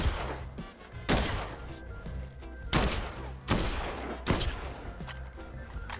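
Heavy gunfire in a zombie video game, with several loud bursts of shots at uneven intervals over a steady background of game sound.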